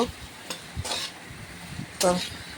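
Potatoes fry in a pan while a spoon stirs them, giving a few short scraping strokes and light clatters over a faint, low sizzle, close by and quiet between the strokes.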